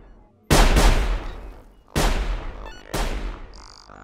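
Gunfire in the stealth survival video game Sir, You Are Being Hunted: three loud, sharp shots or bursts, each trailing off into a long decaying echo, spaced roughly a second and a half apart.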